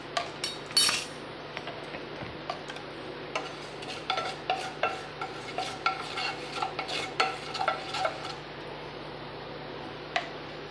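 Mustard seeds and fenugreek tempering in a hot pan for a curd curry, with scattered crackles and pops over a steady sizzle, plus occasional utensil clinks and stirring scrapes close by.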